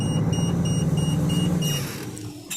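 A car drives along a road during a test of its system, a steady close rumble of engine and tyres with faint beeping tones above, easing off slightly toward the end.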